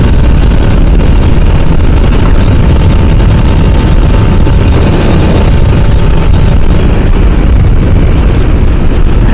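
A Kawasaki RR150 two-stroke motorcycle engine runs loud and close, a continuous rough, buzzing roar with heavy wind-like noise and no talking.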